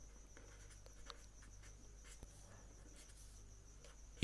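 A pen writes on paper, scratching faintly in short, irregular strokes and taps against a quiet background hum.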